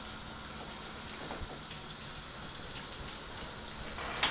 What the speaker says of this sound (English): you want your roll to be submerged in the oil so it can fry evenly